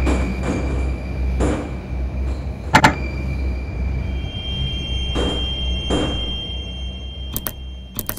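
Moscow metro train at Sviblovo station with its sliding doors closing: a steady low rumble and hum throughout, with several broadband door-motion swishes and sharp clunks as the doors shut, plus faint chime-like tones near the end.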